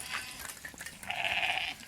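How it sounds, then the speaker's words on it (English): Sheep stampeding past at night, one clear sustained bleat rising out of scattered rustling and brief animal calls, fairly close and moderately loud. "That's a stampede of sheep."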